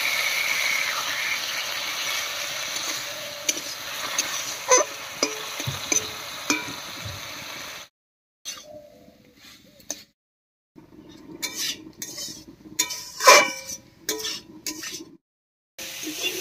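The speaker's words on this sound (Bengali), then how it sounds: "এবারে মশলা বাটা জল দিয়ে কষিয়ে নেব" Ground spice paste fried down with a splash of water in a pan, a soft steady sizzle with stirring scrapes and clinks, then quieter stop-start frying with brief pauses toward the end.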